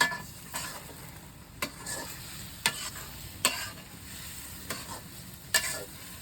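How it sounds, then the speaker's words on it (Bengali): Garlic stirred into chicken and sweet pumpkin in a pan, with a soft steady sizzle under a series of distinct spatula scrapes and knocks spaced about a second apart. "4টে রসুন দিয়ে দেবো, একটু নেড়ে দেবো।"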